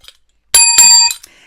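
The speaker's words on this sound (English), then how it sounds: "this is where I need my bell" A bicycle bell rings crisply twice in quick succession, bright metallic dings close and loud, followed by a brief softer tap, with silence before and after.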